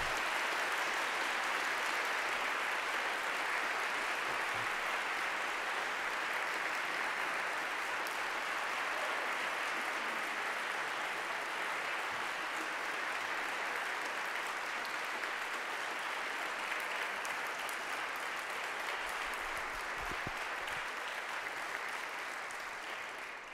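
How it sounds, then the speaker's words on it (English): A standing audience at a Harvard symposium applauds loudly and steadily, a thick, unbroken wash of clapping that holds for over twenty seconds and tapers only slightly at the end. "Let's applaud."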